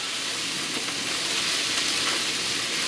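Mushrooms sauté in butter in a hot pan at home, giving a steady, close, bright sizzle and crackle throughout with no voices.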